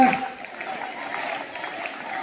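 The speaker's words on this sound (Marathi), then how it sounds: "मोठ्याने टाळ्या वाजवा आणि मोठ्याने म्हणा" A crowd claps together during a devotional Vitthal chant, with steady rhythmic clapping blended under massed chanting voices, dense and continuous at moderate loudness.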